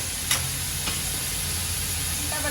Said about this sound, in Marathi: यांना दोन मिनिटापर्यंत मी चांगलं फ्राय करून घेते मसाल्यांबरोबर